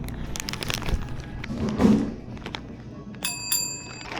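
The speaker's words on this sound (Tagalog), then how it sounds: "But I need to ring the bell para lumabas." A small bell rings at a post office door, a bright, brief ring near the end, heard over a background of footsteps and handling noise.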